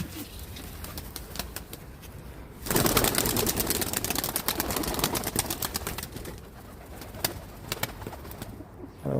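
Game pigeons coo and flutter nearby, with a sudden burst of wing flapping and rustling in the middle as birds are chased to fly, then calmer cooing and shuffling.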